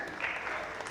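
A theatre audience at a staging of the play Ghasiram Kotwal claps in a brief, soft burst of applause that stays even throughout.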